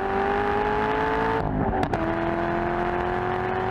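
A Chevrolet Corvette Z06 accelerates hard along a half-mile dockside straightaway, its engine a loud, steady, close roar with rising harmonic tones and a brief whoosh partway through.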